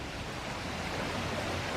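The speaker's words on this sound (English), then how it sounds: "one more view of the running water." Rainwater pours over a retention pond spillover after heavy rain, a steady, even rushing wash of moderate loudness with no other sounds.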